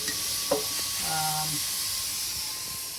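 Ghee sizzling in a hot pan for kozhukattai modak, a soft continuous hiss with a light clink as the dollop goes in, while a person speaks over it.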